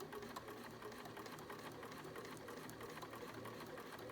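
A Bernina sewing machine stitches slowly with a #88 bias binder attachment on a face mask, giving a quiet, even whirring drone that holds steady throughout with no talk.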